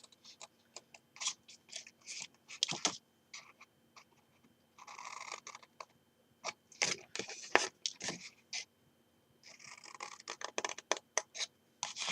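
Scissors snip along the edges of a milk carton Christmas-sock craft, giving bursts of close, crisp cutting and scratching with short quiet gaps, and no talking.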